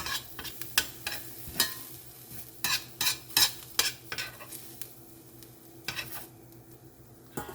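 Cabbage and onions fry in a pan with a steady sizzle, broken by a series of sharp, close scraping and clanking strokes as a utensil stirs the mixture at an uneven rhythm.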